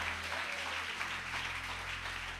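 A church congregation applauds and cheers in a continuous, dense wash of clapping with a low hum beneath it, at moderate loudness and with no clear speech.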